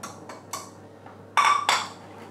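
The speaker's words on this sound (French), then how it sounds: "Là, je le fouette bien." A whisk clinks against a bowl while stirring cannelé batter, several sharp metallic taps and scrapes at an irregular pace, close and clear with no talking.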